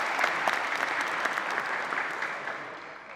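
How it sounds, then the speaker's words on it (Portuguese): Applause from a seated audience at an economics panel in Portuguese, a dense, steady clatter of many hands that fills the whole stretch and tapers slightly near the end, with no talk over it. "Uma salva de palmas."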